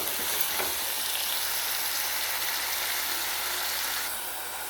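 Tomatoes frying in a pan with garlic and onion for sundakkai kara kuzhambu, giving a loud, dense, unbroken sizzle close by that eases slightly near the end, with no talking.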